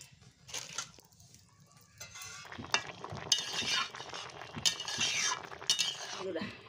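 A lid clinks and scrapes onto a metal cooking pot on the stove as a Bengali puti fish and green banana curry simmers, with several short clattering knocks close by.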